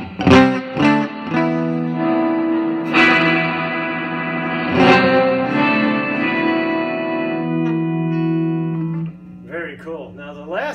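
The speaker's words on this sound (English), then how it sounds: "This is more like a plate reverb." Guitar through a digital reverb pedal on its plate setting, tones drenched in lush reverb, sustained notes blooming and ringing out with long, shimmering tails between strummed chords.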